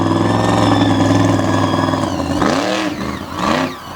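A blue Chevrolet Silverado monster truck named Plain Crazy, driven at a 2021 monster truck event in Bangor, Maine, holds a loud, steady engine drone that swells in two revving bursts near the end. The sound is close and dominant, with no talk.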